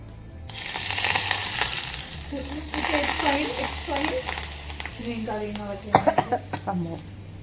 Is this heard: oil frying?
yes